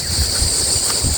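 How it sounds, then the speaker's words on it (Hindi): Strong storm wind blows hard and steadily, a loud rushing roar with rumbling gusts pounding the microphone, no voices heard. "आंधी आ गई बहुत जोर की।"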